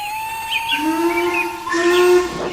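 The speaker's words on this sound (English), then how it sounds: "Then they heard a whistle." A steam train whistle sounds in sustained tones, blowing twice in quick succession with a rising second blast.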